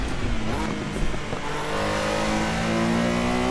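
A Porsche 911 engine in the Assetto Corsa racing simulator, revving steadily with rising and falling tones before settling into a sustained, loud drone at a high, even pitch.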